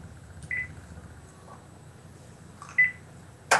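A telephone line beeps after a call drops during a live TV call-in show: a few short, faint electronic beeps spaced a second or more apart over a low background hum, ending in a sharper burst.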